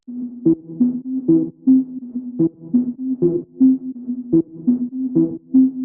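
A synth drop lead layers a sine pluck with a saw stab, repeating in a punchy, rhythmic pattern of short bright hits and sustained tones, close and clean with no voices.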